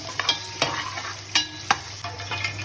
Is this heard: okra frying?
yes